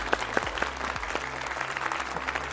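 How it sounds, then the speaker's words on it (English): Audience applause for a guest on a talk show, sustained crowd clapping with distinct sharp claps throughout, over a low background hum. "Let's give a round of applause for Tita."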